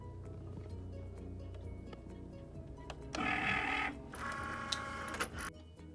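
A Cricut cutting machine taking in a printed mat. A low mechanical hum and faint clicks give way to a louder whirring feed midway, close by, with no speech.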